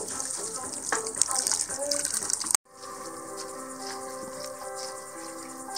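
Water gushes and splashes steadily into a pot of plov for a couple of seconds, stops abruptly, then a faint tonal hum and quiet background noise continue.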